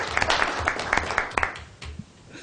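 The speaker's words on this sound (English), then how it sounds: "we could clap more than once" An audience at a county board meeting applauds in a short burst of uneven, fairly close claps that thins out and fades within a couple of seconds.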